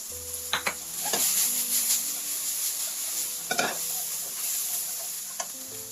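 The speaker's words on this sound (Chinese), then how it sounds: "再放入葱白煸香" Spring onion whites stir-fried in a wok with leftover oil from blanched pork liver, a steady close sizzle broken by scraping spatula strokes and clinks against the pan.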